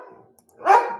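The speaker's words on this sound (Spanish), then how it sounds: "tengo acá un coro de perros" A dog gives one loud, close bark after a few faint sounds, with a brief echoing tail.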